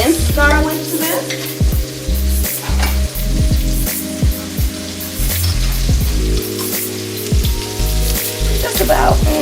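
Minced garlic and onions with cumin sizzling in a pan for portobello tacos, a loud, close, steady fry broken by repeated rhythmic scraping as a utensil stirs the mixture.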